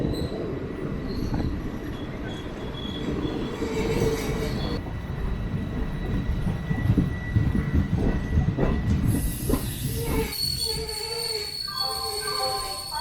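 A 22628 Trichy Intercity Express rolls into Virudhunagar Junction: a loud, steady rumble of wheels and carriages, with high metallic wheel squeals rising near the end as the train slows.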